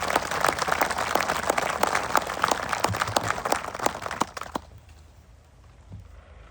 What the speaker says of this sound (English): I think you deserve an extra round of applause for that.